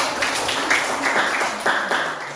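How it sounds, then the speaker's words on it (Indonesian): Classroom applause from a group of seventh-grade students during a science lesson, a dense, steady patter of many hands clapping at moderate loudness, filling the short span without pause. "Iya, tepuk tangan"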